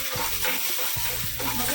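Cumin seeds, fennel seeds and green chili frying in a hot pan, a close, steady crackling sizzle with a few stirring scrapes, with no voices.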